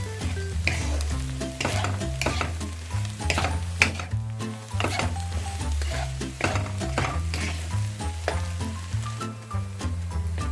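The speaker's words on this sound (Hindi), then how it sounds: "इतना मैंने भुना है कि इसका ये जो मक्खन है वो निकल आया है" Bread and egg makhandi halwa is stirred and roasted in butter in a pan, with a steady close sizzle under repeated scraping and clinking strokes of a spoon against the metal, continuous and without speech.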